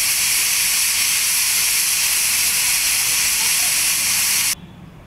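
A pressure cooker vents steam while goat legs curry cooks. It gives a loud, continuous hiss that cuts off abruptly near the end, leaving quiet room tone.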